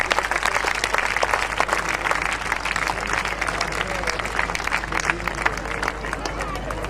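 Audience applause with crowd babble at a Hindi poetry recital in Seawoods, welcoming a guest to the stage; dense, steady clapping fills the whole stretch, loud and sustained, with voices mixed in.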